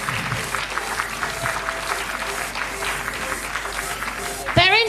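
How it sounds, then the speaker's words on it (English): A crowd applauds steadily for several seconds at a children's charity concert, a dense patter of clapping hands, ending with a short squeal of feedback. "A big round of applause for them."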